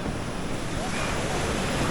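Ocean surf at a beach right beside a road, a brief continuous wash of waves mixed with wind buffeting the microphone, steady and fairly loud throughout.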